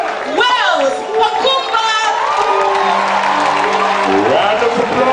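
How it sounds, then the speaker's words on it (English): A lecture audience breaks into applause and cheering after a speaker is introduced, with whoops and crowd chatter mixed through the clapping and a voice talking over it. "Round of applause"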